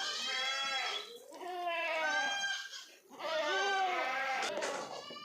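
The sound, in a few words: goats bleating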